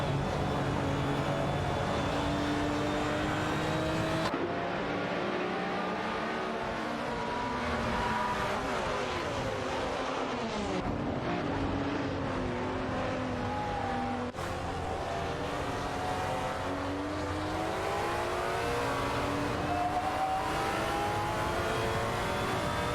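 Race cars in a video game, including a Maserati GranTurismo and an Aston Martin Vantage GT4, drone steadily with rising and falling engine pitch as they rev and pass, loud and continuous with no speech.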